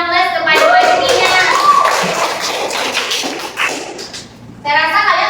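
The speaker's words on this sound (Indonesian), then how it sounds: "berikan aplaus kepada Fajrina" Classroom applause for a student named Fajrina, a loud burst of many hands clapping close by mixed with children's voices and chatter, fading briefly before voices rise again.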